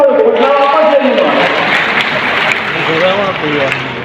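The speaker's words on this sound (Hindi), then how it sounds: "ताली बजाओ" A rally crowd claps in a steady, even patter while someone speaks loudly over it through a public address system.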